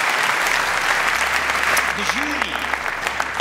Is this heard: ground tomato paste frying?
no